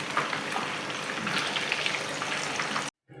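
Jalapeño popper bites fry until golden brown, a close, even bubbling sizzle of hot oil that cuts off abruptly to silence near the end.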